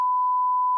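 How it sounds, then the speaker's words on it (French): A single steady electronic censor beep, a pure sine tone held evenly for under a second, loud and alone, used to bleep out spoken words. "On fera des bips."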